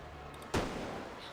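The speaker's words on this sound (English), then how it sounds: "A gunshot splits in the air." A single sharp gunshot in a dramatic scene of the video game Reverse: 1999, set aboard a midnight train; one loud, sudden blast that decays into a lingering low rumble over quiet background ambience.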